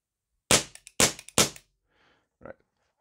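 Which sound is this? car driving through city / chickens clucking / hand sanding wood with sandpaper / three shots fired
three shots fired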